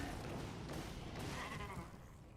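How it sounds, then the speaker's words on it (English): Goatman monsters in Diablo give dense bleating, growling cries amid a thick wash of game noise, short and continuous. "I do like the sounds of the Goatmen"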